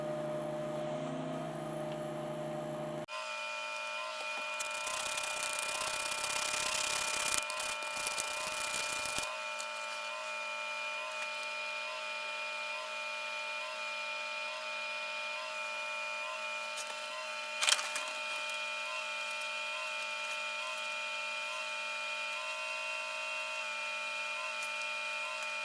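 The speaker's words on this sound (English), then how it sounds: "I'm going to have to sand the end off of this one as well." The end of a guitar string lock pin is sanded down by hand in a steady, raspy burst lasting several seconds, followed by a long stretch of quiet electrical hum with one brief click.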